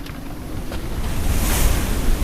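Steady wind roars and ocean waves rush around a sailboat at sea after squalls, a continuous loud wash that builds slightly toward the end.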